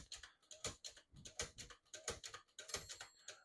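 On a 1956 Smith-Corona Silent-Super portable typewriter, the tab clear button is pressed repeatedly, making a series of faint, close mechanical clicks and small ratcheting sounds at a roughly steady pace.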